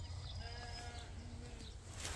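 Sheep and lambs bleat in a long-grass pasture, a few overlapping calls over steady low rumble of wind or handling noise, moderately near and fairly quiet.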